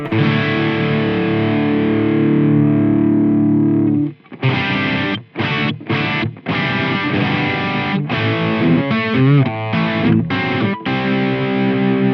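Heavily distorted electric guitar through an Engl Gig Master 15 valve amp with a 4x12 cabinet impulse response: a sustained chord rings out, then choppy chugging riffs follow, loud and close.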